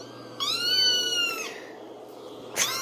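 Baby kitten meows played back for a dog: one long, rising-and-falling mew, then a short, sharp mew after a pause, both fairly close over a steady low hum.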